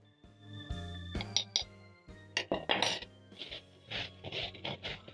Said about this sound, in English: Toss the green bananas so that they can get coated with the paprika and serve.